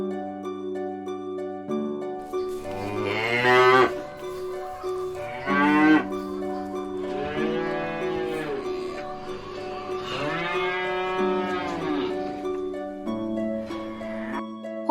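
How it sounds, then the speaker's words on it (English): Cattle mooing in several long, drawn-out calls with pauses between them, loud and close, alone with no talk, set against a steady tonal background. "Cow."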